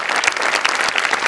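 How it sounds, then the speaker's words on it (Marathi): Loud, steady applause from a studio audience for a three-performer comedy act on the Maharashtrachi Hasyajatra stage, dense clapping filling the whole moment with no talk over it. "जोरदार टाळ्या तिघांसाठी."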